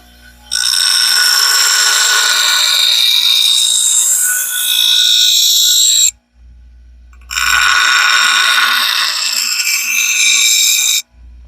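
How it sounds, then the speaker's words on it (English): A bench grinder shapes a forged throwing knife, two loud sustained passes of high, whining abrasion, each several seconds long and separated by a short pause, with no talking. "We've got the rough sides, the smooth side of the grinder."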